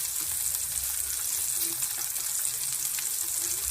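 Green chillies frying in hot oil with onions, giving a steady, close hiss and crackle of sizzling that runs unbroken and evenly throughout, with no voices present.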